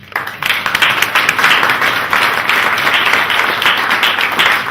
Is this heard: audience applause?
yes